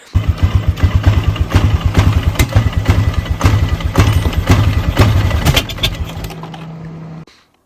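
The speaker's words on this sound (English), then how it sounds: "I would drive for a bit, and it would start running really rough." A Polaris Sportsman 500 ATV engine running rough from a bad ignition, close and loud, with uneven pulsing stumbles and misfires before it cuts out near the end.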